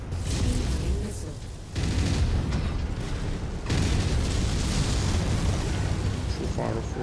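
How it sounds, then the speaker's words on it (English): Incoming missiles burst into heavy explosions in MechWarrior, fought from an Atlas AS7-RS battle mech: two loud broadband booms strike about two seconds apart over a dense, rumbling battlefield din. "Incoming missile."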